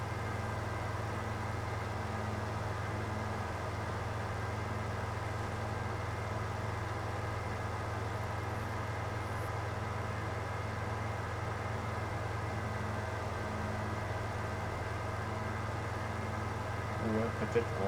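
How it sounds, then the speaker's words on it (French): Slow tractor engine in a farming video game, a steady low drone that runs unchanged throughout with quiet talk over it. "Ah, les amis, c'est pas un cheval de course, hein, le tracteur"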